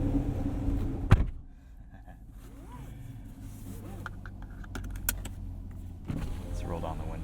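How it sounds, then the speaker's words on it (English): Power windows on a 2018 Chevrolet Camaro 2SS with six-speed manual, parked in a parking structure at night: a sharp click, then a close, steady electric motor whir lasting several seconds over a low cabin hum. "Let's roll down the windows."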